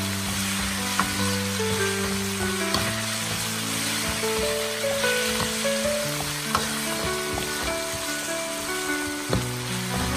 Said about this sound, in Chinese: 继续快速的翻炒，炒出它的红油， 把火锅底料也要炒香炒化。